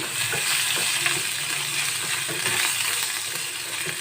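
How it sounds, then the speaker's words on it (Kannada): Ginger garlic paste frying and being stirred in hot oil for a dhaba-style dal tadka, a steady close sizzle with scattered clinks and scrapes of the spoon throughout. "ಕಾಲು ಟೀ ಸ್ಪೂನಷ್ಟು ಶುಂಠಿ ಮತ್ತು ಬೆಳ್ಳುಳ್ಳಿ ಪೇಸ್ಟ್ನ ಹಾಕೊಳ್ಳಿ ಜಾಸ್ತಿ ಬೇಡ ಮಿಕ್ಸ್ ಮಾಡ್ಕೊಳ್ಳಿ"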